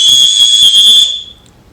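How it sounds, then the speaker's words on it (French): A 3D-printed whistle blown hard, one loud piercing shrill tone held for about a second, then cut off, close and alone. "je vais avertir Catherine avec mon nouveau sifflet de mon imprimante 3D"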